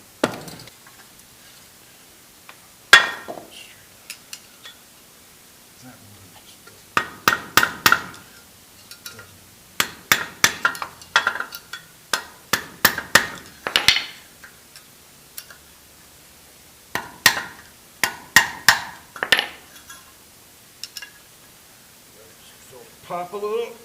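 Screwdriver hammered against wheel bearing races on a Hyundai Accent captive rotor, sharp metallic taps in irregular clusters with pauses between, close and fairly loud.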